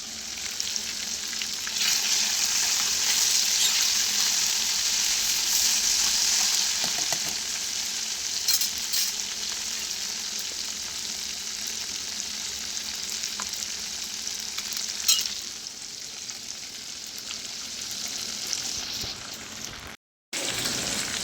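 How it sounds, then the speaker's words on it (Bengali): Chopped onion, chilli and tomato frying in oil in a kadai, a continuous loud sizzle and crackle that eases slightly toward the end, with a brief dropout near the close and no voices. "তো টমেটোগুলোকে এখন একটু ভেজে নিচ্ছি যাতে টমেটোগুলো গলে যায়।"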